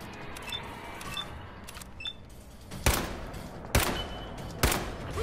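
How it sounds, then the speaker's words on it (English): Three sharp pistol shots ring out in the video game Fallout 4, evenly spaced about a second apart and standing out loudly over a quiet game ambience with faint small chimes. "Oh my gosh, I missed every shot."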